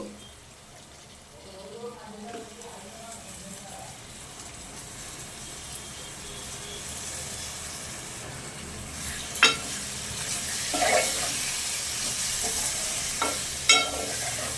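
Pieces of liver fry in a pan for liver curry with a steady sizzle that swells midway. A spatula stirs and scrapes in occasional sharp knocks, and a voice speaks faintly in the background early on.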